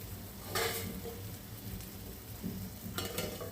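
Prawn masala frying in a covered pan, with half a lemon squeezed in, gives a faint, steady sizzle with a few soft stirring clinks, heard alone.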